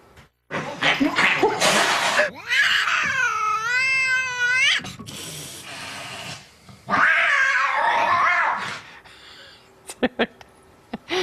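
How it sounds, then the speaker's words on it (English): A cat yowls and caterwauls in long, wavering, drawn-out cries, with hissing, rustling, and a person's voice in between, close and loud. "Here's what happened when the family cat was asked to join some fun festivities."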